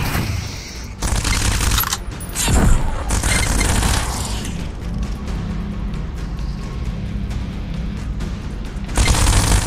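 Gunfire and cannon blasts in the VR shooter game Gunheart: loud sustained bursts of rapid automatic fire with heavy booms, breaking off briefly then resuming in a dense barrage, close and without talk.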